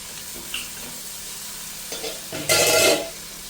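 Carrots and beans fry with chicken in a pan for chicken pasta, with a few light stirring taps and then a loud, close sizzling burst near the end. No one speaks.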